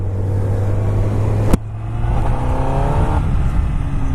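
A 2017 Honda CBR 1000 RR sport motorcycle engine drones steadily while being ridden, with a sharp click midway followed by the pitch rising as the bike accelerates, loud and close with wind noise.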